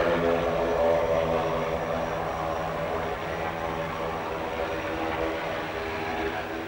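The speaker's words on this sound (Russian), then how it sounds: "Внимание! Пилот отключает двигатель." An Antonov propeller aircraft in flight as the pilot shuts down an engine: a loud, steady propeller drone that eases slightly lower partway through and then holds.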